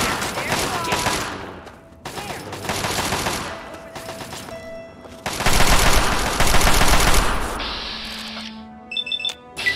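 Bursts of gunfire from a long-range weapon in the video game Fallout 3, several dense volleys separated by short pauses, followed by electronic interface beeps and chimes.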